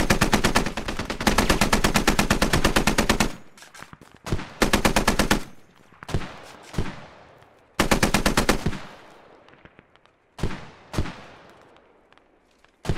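Long rattling bursts of machine gun fire in the Squad military shooter, loud and close, with sustained automatic strings broken by pauses and scattered single shots echoing off in between.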